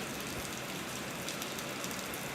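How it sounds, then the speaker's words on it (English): Steady rain falling outdoors near an open window, a dense even hiss with fine patter throughout and no voices. "it's raining here, y'all"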